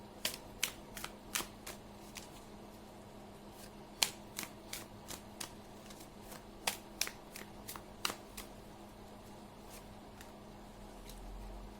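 Tarot cards being shuffled and laid out in a quiet room, a close, crisp run of sharp riffling snaps and flicks in uneven bursts, with no talking.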